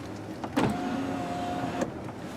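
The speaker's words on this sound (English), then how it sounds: "You could also vent the sunroof by pressing this button right here." A 2017 Toyota Highlander SE sunroof motor whirs steadily as it tilts the glass open to vent, a smooth electric hum running about a second between two soft clicks, close and alone.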